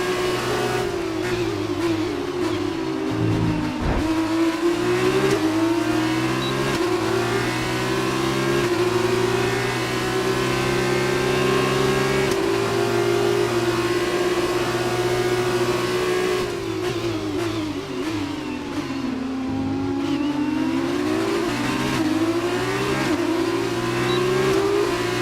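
F2 race car engines from F1 2019 drone continuously at high revs, pitch climbing and dropping with gear shifts through the lap; a steady, loud engine tone fills the whole stretch with a brief dip near the start.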